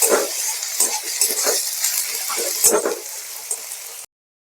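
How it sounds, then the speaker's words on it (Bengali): Ginger-garlic paste sizzles and crackles steadily in a pan with occasional stirring scrapes, then the sound cuts off abruptly. "এবার এটাকে আমি ভালো করে ভাজবো।"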